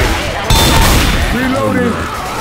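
Gunfire rattles during a Left 4 Dead 2 versus match, loud close weapon bursts with a sharp crack, and a shouting voice cuts in over the shooting.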